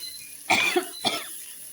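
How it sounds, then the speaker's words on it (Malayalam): Two short, close coughs in quick succession, separated by a half-second pause, in an otherwise quiet room. "നല്ല ചുമ തന്നെയുണ്ട് ഇന്ന്"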